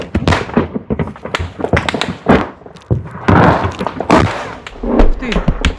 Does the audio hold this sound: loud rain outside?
no